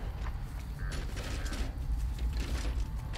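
Treasure chest being opened in the video game Dead by Daylight, heard as a quiet mechanical creaking and ratcheting rattle that runs steadily for about three seconds with no talking.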